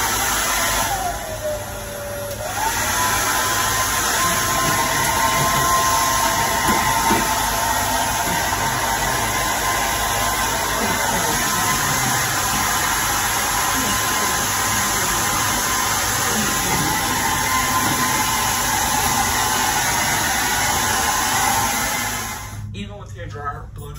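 A hair dryer on its cool setting blows steadily and loudly throughout while a dog is dried after a bath, a continuous rushing whir that cuts off near the end, with a person speaking over it.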